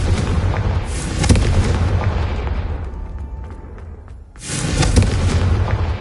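The Confringo fire spell in Hogwarts Legacy explodes with loud, deep booming blasts: a heavy rumbling burst at the start, a quieter dip, then a second strong explosion near the end.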